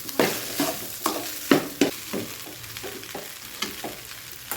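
Hot garlic rice being stirred in a pan with salt and sugar, a spoon scraping and turning it in a steady series of soft clattering strokes, each with a faint sizzle, close by with no talk.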